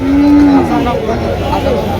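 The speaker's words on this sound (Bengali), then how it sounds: "সবাই গরু নিয়ে আসছে মাত্র" A Sahiwal heifer calf at the Chandimura cattle market in Comilla gives one loud, close moo, with crowd chatter behind it.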